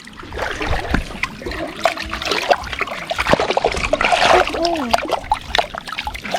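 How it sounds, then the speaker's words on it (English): Water splashing and dribbling as legs are washed in a mud pool at a Fijian mud bathing site, with irregular close splashes and trickles while people talk. "Island, wash your legs."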